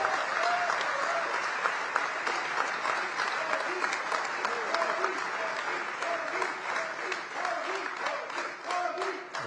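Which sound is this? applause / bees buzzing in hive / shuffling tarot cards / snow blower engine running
applause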